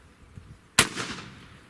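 A single sharp rifle shot fired over a chronograph with hollow point rounds, a sudden loud crack followed by a short fading outdoor echo, alone with no talk.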